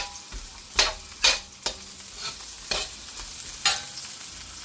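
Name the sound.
garlic being sautéed in a pan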